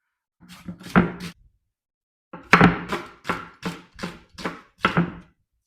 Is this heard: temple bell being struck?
no